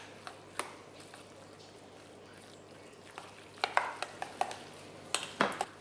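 Salmon chermoula with olive oil, salt and pepper is mixed in a bowl, producing soft wet stirring and squishing. A few sharper clicks and scrapes come near the end, with no talking.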